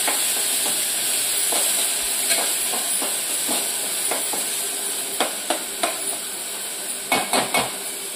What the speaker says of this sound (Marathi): आता हे मी खोबऱ्या लसणाचं वाटण टाकते। याला आपण चांगलं परतून घ्यायचं आहे।